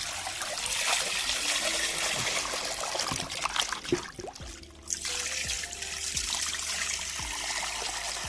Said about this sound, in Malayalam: നമുക്ക് നന്നായിട്ട് കഴുകിയെടുക്കാം. 2-3 വെള്ളത്തിൽ കഴുകണേ.